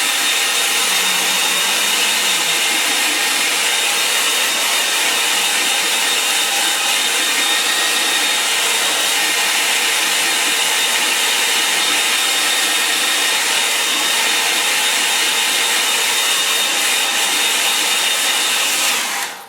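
Hair dryer blowing steadily on a painting, a loud continuous close whoosh lasting the whole stretch, alone without talk.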